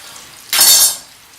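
A sudden burst of loud sizzling hiss, about half a second long, as parsley-and-cheese meatballs hit a hot frying pan, then fading back to a quiet low sizzle.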